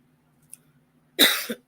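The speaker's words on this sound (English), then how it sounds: "sorry, I'm coughing" A single harsh cough breaks a near-silent room, loud and close, with a brief catch at its end.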